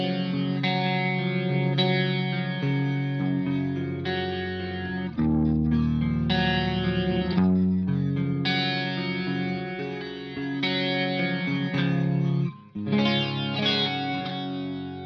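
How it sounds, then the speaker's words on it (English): Electric guitar played through a 1985 Yamaha SPX90 set to chorus with distortion sounds thick and shimmering, as sustained chords ring out one after another with a brief cut near the end. "Chorus A, but it really comes alive whenever you turn the distortion on."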